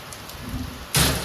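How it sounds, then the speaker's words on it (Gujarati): Heavy rain pours down steadily in an open farm setting, a dense hiss that suddenly swells louder near the end as the downpour intensifies. "તો વરસાદે બગડાટી બોલાવી દીધી આજ તો ભાગો ભાગો"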